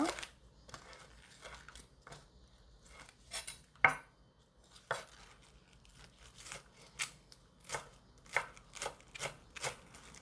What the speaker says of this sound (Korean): 송송 썰어줍니다